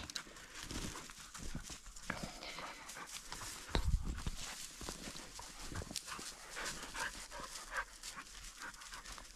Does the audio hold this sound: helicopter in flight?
no